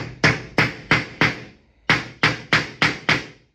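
A nail driven through a pre-drilled hole in a TapcoSlate synthetic eaves slate, struck by a hammer in two bursts of four and five sharp, evenly spaced close blows with a short pause between.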